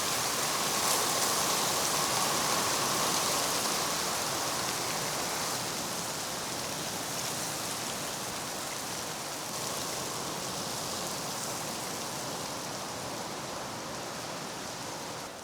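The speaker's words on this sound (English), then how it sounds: "Oh, that's hail coming down." Hail and rain pour down outside as a dense, steady hiss, loud at first and easing slightly, with no voices.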